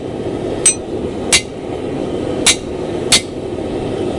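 A hammer strikes a mild steel drift driven through the eye of a hand-forged camp axe, four sharp metallic rings spaced unevenly and close, alone over a steady background hum.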